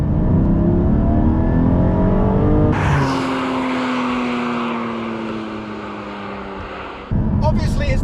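A 2020 Porsche 718 Boxster Spyder's 4-litre flat-six revs hard toward 8,000 RPM, its pitch climbing, dropping with a quick shift and climbing again, loud and close.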